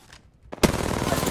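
Sudden bursts of rapid automatic gunfire in Apex Legends break out after a quiet moment, loud and sustained, close by, with a couple of faint shots just before.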